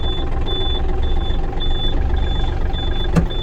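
A steady low engine drone fills the cab of a Yanmar AF230 tractor, with a regular high beep repeating about twice a second and a brief click near the end.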